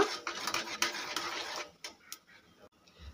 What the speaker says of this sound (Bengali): জিরেটা একটু ভাজা ভাজা করে নেব।